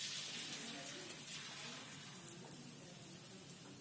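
Tempeh pieces fry in hot oil with a steady, dense hiss and crackle that carries on throughout at an even, moderate level.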